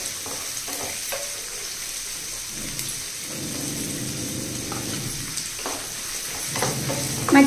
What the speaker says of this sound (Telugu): ఇవన్నీ చక్కగా వేగాలి.